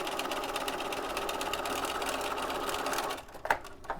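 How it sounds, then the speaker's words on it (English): A sewing machine runs steadily, stitching a second row along the edge of a zippered head cover: a close, continuous mechanical whir with a rapid needle rhythm that stops near the end, followed by a few faint clicks. "I'm going to stitch that second row again to make it neater on the inside"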